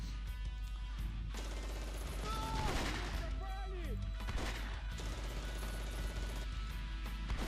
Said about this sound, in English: something is definitely firing towards our positions